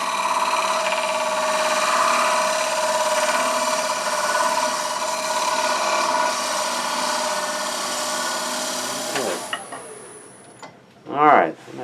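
Wood lathe turning a wooden yarn bowl, a loud steady whirring cut that runs for about nine seconds, then drops away to quieter scraping and a brief rising whir near the end.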